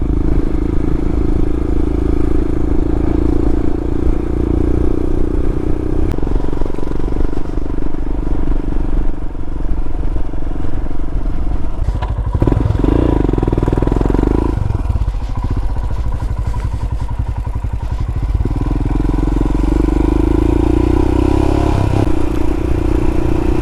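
A motorcycle rides across Dartmoor with a steady engine drone and heavy wind rumble, rising and falling in pitch as the throttle shifts, loud and constant with no voices.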